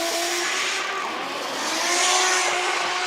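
A drift car held sideways on a qualifying run at the FIA Intercontinental Drifting Cup in Riga, its engine droning steadily at high revs with a tire hiss, loud and close for a few seconds, no voices.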